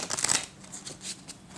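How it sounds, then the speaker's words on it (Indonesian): Tarot cards are shuffled close up, a quick burst of papery riffling followed by softer slides and taps, fairly quiet overall. "untuk shuffle kartunya"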